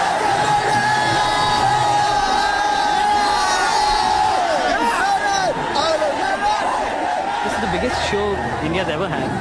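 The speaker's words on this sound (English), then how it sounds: "I don't think you'll hear a louder crowd anywhere in the world" Dense, roaring crowd of thousands of metal fans at a concert in India, a continuous wall of cheering, whooping and shouting with no breaks throughout.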